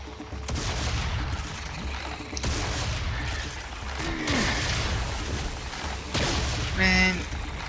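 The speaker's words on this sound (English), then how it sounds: "I got a machine gun" Machine gun fire in Serious Sam 3 BFE, rattling in steady loud bursts across the clip with booms and crashes mixed in, while a voice talks over the shooting.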